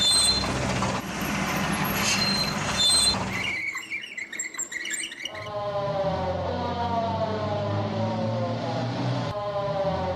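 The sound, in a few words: police car siren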